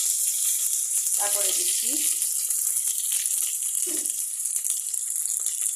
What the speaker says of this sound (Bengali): এখন আমি এখানে ছেড়ে দিচ্ছি তেজপাতা।